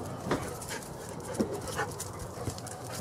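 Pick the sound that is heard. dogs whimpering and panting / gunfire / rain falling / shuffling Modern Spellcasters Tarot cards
dogs whimpering and panting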